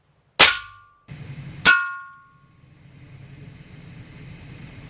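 Air rifle, a Daisy 880 or Ruger Air Hawk, fires two sharp, close cracks about a second apart, each decaying with a short ringing tail, followed by a low rumbling background.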